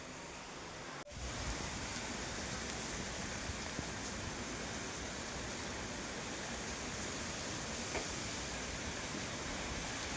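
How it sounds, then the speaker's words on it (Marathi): Heavy monsoon rain pours down in rural Maharashtra as a dense, steady hiss. It cuts in abruptly after a second and then continues evenly at moderate loudness, with no talking. "आज मुसळधार पाऊस पडालाय खूप दिवसानं"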